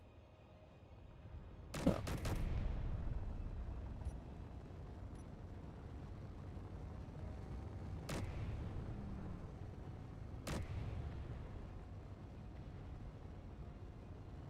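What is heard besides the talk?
gunfire from turrets in the video game Space Engineers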